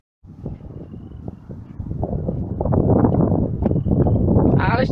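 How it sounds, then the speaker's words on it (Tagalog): Strong tornado-warning wind in Calgary roars across an open microphone, building from moderate buffeting to a loud, sustained rush with gusty surges over its last seconds. "Alis na ako, alakas na lang hangin dito."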